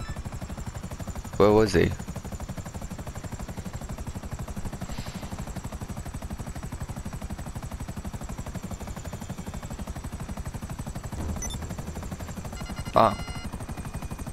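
Gunfire in GTA 5 Online: two short bursts of shots, one around the middle and a brief one near the end, over steady game noise and a constant engine-like drone, with a few spoken words in between.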